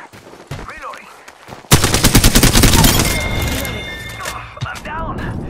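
Rapid automatic gunfire in Apex Legends erupts suddenly after quieter moments and holds loud and dense for several seconds before easing, with in-game voice callouts over the top.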